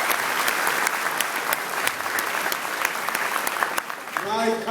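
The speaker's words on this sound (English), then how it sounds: "Gary and Andrea and Jeff Klein, let's give them a round of applause for a great session" An audience at a public event with the New York governor claps steadily in sustained, dense applause, then a voice begins speaking over the last of it.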